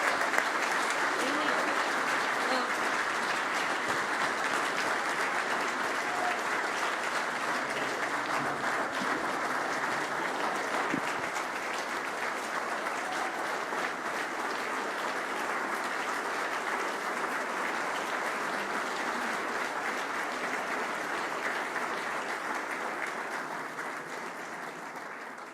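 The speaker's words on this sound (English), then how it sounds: "Give a big round of applause to Jin Young Ko and also to Annika Sorensen for being here tonight." Sustained audience applause at the Rolex LPGA Awards evening, a steady dense wash of clapping from a large crowd that holds level throughout and tapers only slightly at the end.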